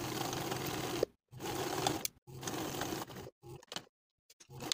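A sewing machine stitches a trouser fly front in rapid, even bursts of about a second each, separated by brief silent pauses. It runs close and clear with no talking.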